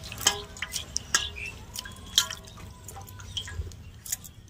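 Mint and green chillies are rinsed in water in a kitchen, with close, irregular drips, splashes and light clinks against a container over a soft background hum.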